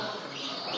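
Gloster canaries in cages at a Spanish canary championship in Jaén chirp and twitter in a dense, continuous chorus with no speech.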